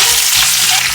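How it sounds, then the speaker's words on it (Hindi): Two large onions sizzle in a pan after cardamom goes in, a loud, dense, even frying hiss close by with no voices. "प्याज को बस 1 मिनट के लिए सौटे करेंगे।"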